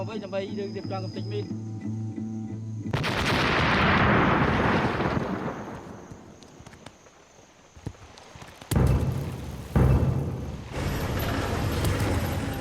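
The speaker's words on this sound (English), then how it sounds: "place an explosive charge next to it and destroy it. Controlled explosion ready." A controlled explosion destroys a landmine in post-civil-war Cambodia: a loud, sustained blast roar that swells, fades over several seconds, then gives way to further sharp thumps and rumbling.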